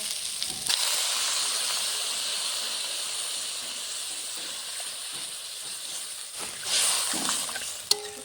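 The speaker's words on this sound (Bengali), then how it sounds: "এখন জল দিয়ে দেবো।" Water poured into a hot pan of fried potato and tomato curry for a Bengali egg curry, giving a broad, steady steam hiss that holds for several seconds and then swells briefly near the end, close and fairly loud, with no voices.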